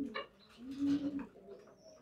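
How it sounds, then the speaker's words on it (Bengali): Racer pigeons in a loft giving a low, throaty coo that swells and fades over about two seconds, close and fairly quiet, with a faint higher chirp near the end and no talk. "আমি ফার্স্ট এই রেসার কবুতরটা জোড়া দিয়েছি"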